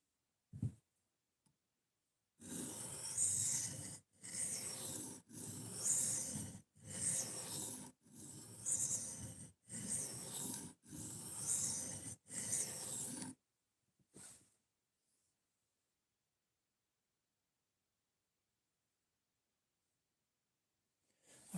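A knife blade is drawn over a sharpening stone to pull a burr, about eight evenly spaced rasping strokes in a close, quiet space, followed by one short scrape and then silence.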